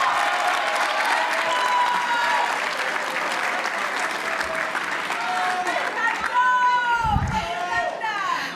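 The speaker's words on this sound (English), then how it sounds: "I would love to give them just a quick round of applause" Steady applause from a summit audience honoring embassy and consulate staff at a closing celebration, a dense wash of clapping with voices and cheers mixed in, continuing through.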